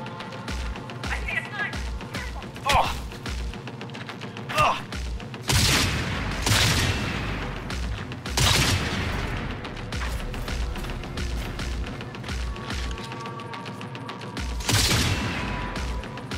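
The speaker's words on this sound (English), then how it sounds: "Snipers shooting through" Sniper rifles firing in Cyberpunk 2077, several heavy booming shots spaced a few seconds apart over a busy game soundtrack, with someone talking between them.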